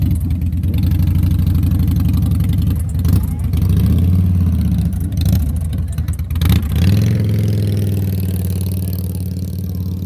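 Harley-Davidson Low Rider motorcycle at a Panhead hill-climb event, its engine loud and close, idling with a lumpy throb and revving in bursts, while people talk nearby.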